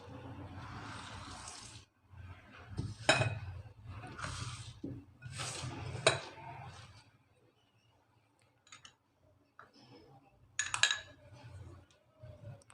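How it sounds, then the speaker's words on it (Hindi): Flour for poori dough is mixed by hand in a bowl, giving faint, intermittent bursts of rubbing and scraping with short pauses and quiet gaps between strokes. "अब हम अपने आटे को मिक्स कर लेते हैं।"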